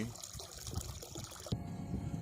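Thin stream of water trickling steadily from a pool heating heat pump, a soft continuous splashing flow that cuts off abruptly near the end.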